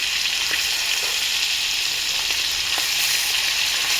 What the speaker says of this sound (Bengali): মাছটাতে নুন হলুদ মাখিয়ে তেল দিয়ে হালকা করে একটু ভেজে নেবো